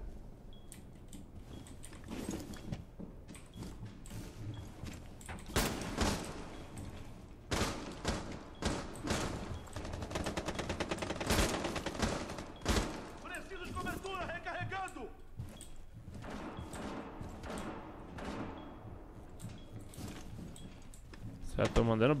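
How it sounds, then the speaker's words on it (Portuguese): Rapid gunfire bursts and thuds from the tactical shooter game Rainbow Six Siege, dense and loud in stretches, mixed with footsteps and game noise while people talk over it throughout. "Já tô mandando bala, velho."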